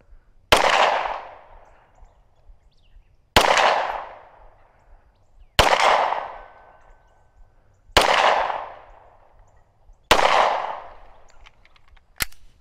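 Five loud, sharp gunshots from an aluminum-frame handgun, fired at a slow, steady pace about two and a half seconds apart, each with a ringing decay, and no talking.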